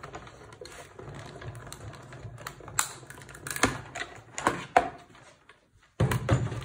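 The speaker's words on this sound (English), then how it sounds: "you won't have to be sitting watching me die cut" A manual die cutting machine rolls card paper through in a run of clattering, ratcheting mechanical clicks and knocks, fairly close and loud, stopping briefly before the cranking resumes near the end.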